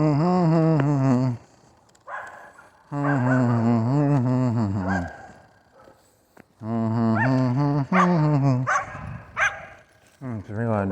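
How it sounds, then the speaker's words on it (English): A loud dog barks and bays in long, drawn-out bursts close by, separated by short pauses, with faint background noise between the calls. "It's a real loud dog."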